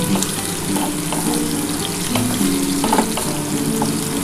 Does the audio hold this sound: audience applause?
no